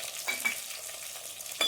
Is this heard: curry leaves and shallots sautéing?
yes